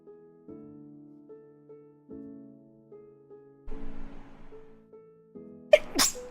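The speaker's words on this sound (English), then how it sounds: "I had to sneeze." A single sharp sneeze bursts out near the end, loud and close, after a stretch of quiet background music with a person nearby.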